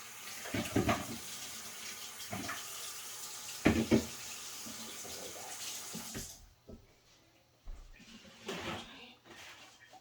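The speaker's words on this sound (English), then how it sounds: "wash my hands" Water runs from a kitchen tap while hands are washed during garlic preparation, splashing in uneven bursts before easing to fainter trickles and drips near the end.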